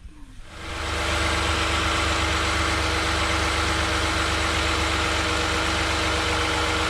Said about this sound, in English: I'm gonna go ahead and start and test it.